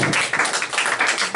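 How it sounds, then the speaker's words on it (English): At a live band concert at the Silver Orange, an audience applauds with fast, dense clapping that is close and loud, with quick irregular bursts across the moment. "Hand up a round of applause for you."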